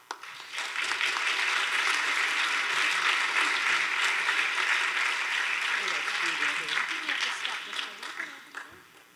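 An audience at an equity and social change award ceremony gives Dr. Inglehart a sustained round of applause, a loud, dense crowd clapping that swells quickly, holds steady, then thins and fades toward the end.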